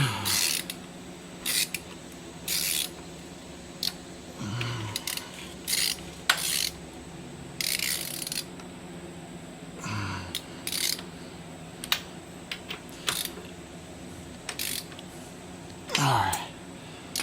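A ratchet wrench tightens the raising-link bolts on a Kawasaki KLR 650 motorcycle, with bursts of rapid clicking and pauses between them, close up, plus faint metallic handling and some quiet speech.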